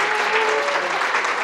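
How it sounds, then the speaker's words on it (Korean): Wedding guests applauding in a convocation grand ballroom, a dense, even burst of clapping filling the hall, with a faint tone or voice beneath. "너무나도 귀한 말씀 주신 우리 아버님께 다시 한번 감사의 박수 부탁드리겠습니다."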